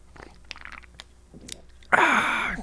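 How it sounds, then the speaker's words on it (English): Someone takes a cold drink: several small mouth and crunch-like noises lead into a loud, close, sustained slurping sip lasting under a second. "That sipping noise. That's fantastic. I'm making that my ringtone."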